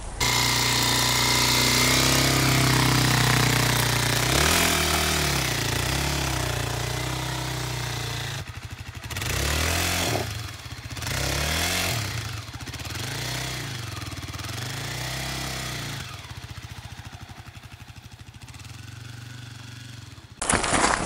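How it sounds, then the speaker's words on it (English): Honda CRF250L and Kawasaki KLX250 dirt bike engines run close by during a backcountry ride, a loud continuous motor drone with rising and falling revs throughout. "The center's got a Honda CRF250L. I've got a Kawasaki KLX250. So, small bore bikes, but a lot of fun."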